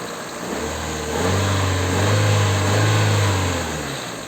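Hyundai Accent Era petrol engine idling steadily after an ignition coil replacement, a smooth, close, low hum that swells slightly in the middle and holds an even rhythm, with no talking.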